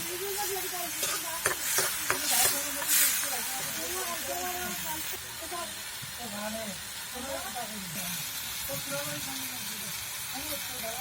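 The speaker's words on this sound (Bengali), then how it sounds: "ভালো করে ভেজে নিচ্ছি।" Onion, tomato, ginger and garlic hiss and sizzle in oil in a wok for a fish curry, a moderate steady frying noise with some stirring clatter early on and a voice talking over it.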